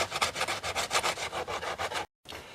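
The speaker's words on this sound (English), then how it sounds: "the little particles that you sand off wind up mixing with the CA and making like what amounts to be CA Bondo" Hand sanding over a cyanoacrylate glue repair on the fender of a 1983 Suzuki XN85 turbo motorcycle makes rapid rhythmic rasping strokes, about a dozen back-and-forth passes close up, then a brief pause.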